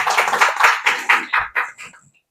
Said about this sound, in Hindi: इनकी जोरदार तालियां किड डॉग के लिए